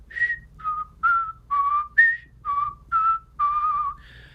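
A person whistles a simple melody of about nine separate notes, clear and close, with short pauses between phrases over a low background hum.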